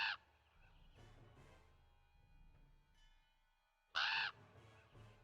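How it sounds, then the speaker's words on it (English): A raven caw sound effect is played as Foley during a tabletop Dungeons & Dragons session, giving a loud, harsh call at the start and another after a quiet stretch of faint background noise. "I've got little Foley noises, so I've got a little raven noise."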